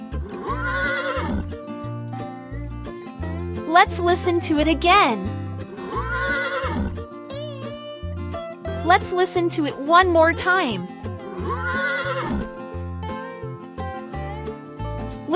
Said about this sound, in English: The horse says,